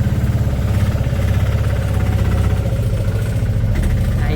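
Auto rickshaw engine running steadily while riding over a potholed road, with a continuous low rumbling throb and vibration, loud and close throughout, no talk.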